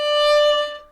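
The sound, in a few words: violin note with string fully pressed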